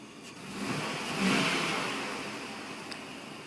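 A car engine modified to run with a hydrogen system revs up as the gas is pressed, rising to a peak around the middle and then easing back toward a quieter idle, heard up close with no talk.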